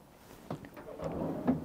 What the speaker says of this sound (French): Un grand tiroir, et c'est bien, c'est à la bonne hauteur.